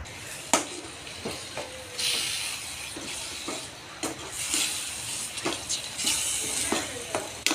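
Ground masala paste of cinnamon, clove and cardamom sizzles and hisses as it goes into a hot pan for mutton kuruma. A steady frying hiss is broken by sharp crackles and pops, close by, with no talking.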